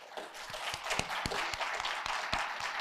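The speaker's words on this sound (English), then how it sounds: "So if we could give them a round of applause." An audience applauds panellists at a talk on sustainable food, with scattered, fairly faint claps in an uneven patter lasting a few seconds.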